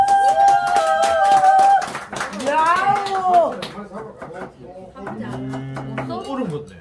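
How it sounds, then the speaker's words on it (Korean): A small group at a tuna restaurant claps in quick, uneven bursts, mixed with excited talking and a shout, close and lively at a tasting table. "박수, 박수, 박수!"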